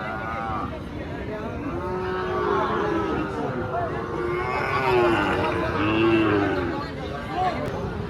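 Cattle moo repeatedly at a cattle market, several drawn-out lowing calls rising and falling over a busy outdoor background with some chatter.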